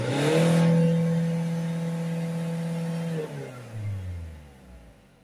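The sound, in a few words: car diesel engine revving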